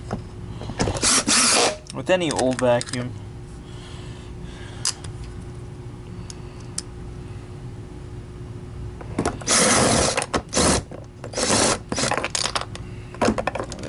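A power drill driving screws on a low torque setting into an older Miele S300-series canister vacuum's plastic housing whirs in short bursts near the start and again later, with quiet stretches between and a voice speaking briefly.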